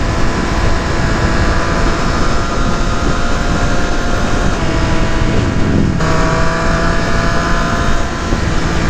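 A 2018 Triumph Street Triple RS motorcycle rides along a twisty road, its engine a loud, steady drone under heavy wind rush, with a brief shift in pitch near the end.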